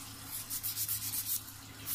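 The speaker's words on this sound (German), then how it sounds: "Hier muss noch ein bisschen gefeilt werden." A fingernail being shaped with a nail file, brisk back-and-forth rasping strokes heard close and steady, with no talk.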